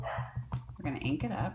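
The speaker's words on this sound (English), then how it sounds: "pardon my dogs" Dogs bark several times in the background, faint and rhythmic, while someone talks over them.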